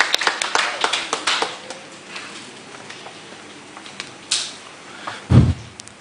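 Scattered hand claps from an audience at a stakeholders' election meeting, a handful of sharp claps early that thin out into sparse isolated claps, followed by a louder thump near the end.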